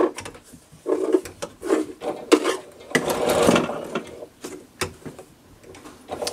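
A sewing machine stitches a quarter-inch seam on a quilt block, giving short bursts of mechanical whirring and clicking with brief pauses between, close up and fairly quiet, with no talking.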